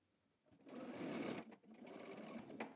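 A sewing machine runs in a steady burst, stitching a jacket seam, pausing briefly and then running again, close and fairly quiet.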